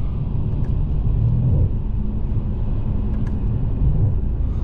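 A Mercedes-AMG S63 with its V8 rumbles at low pitch from inside the cabin as it downshifts, a steady deep engine drone with slight swells, no talking.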